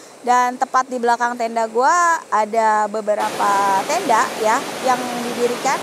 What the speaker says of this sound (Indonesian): Teman-teman bisa dengar suara sungai di sebelah kanan gua